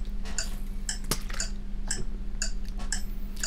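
Countdown timer ticking steadily through ten seconds, sharp regular clicks over a low constant hum, with no voices.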